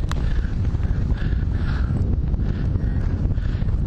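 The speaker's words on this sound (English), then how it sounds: "there's a bit of wind coming" Gusty wind buffets the microphone outdoors, a steady loud rumble with slow surges throughout and no talking.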